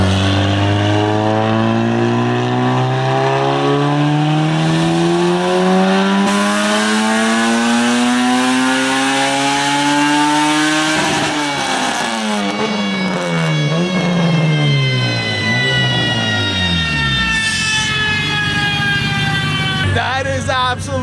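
An AWD big-turbo Honda Civic revving on a dyno, the engine climbing steadily in pitch for about eleven seconds, then dropping and rising again in rapid sweeps, loud and close with brief voices underneath.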